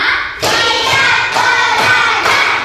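A class of children clap together in a counting routine, several sharp group claps landing in a regular beat, close and loud with a brief pause before they begin.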